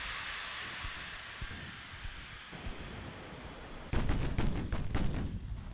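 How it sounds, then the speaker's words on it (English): Battleship gun salvo from 20-inch guns in Ultimate Admiral: Dreadnoughts, a distant boom that swells into a loud rumbling roll over a steady hiss of wind and sea noise. "I think I just heard another salvo from the 20-inch go off."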